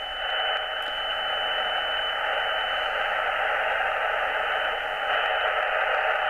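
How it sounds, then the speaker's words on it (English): Amateur radio receiver tuned to 7093 kHz on the 40 m band, carrying a steady, loud band of hissy static and noise from a transmitter tune-up, unbroken for the whole stretch with no voices. "Sounds like someone's having a bit of a tune-up on 7093"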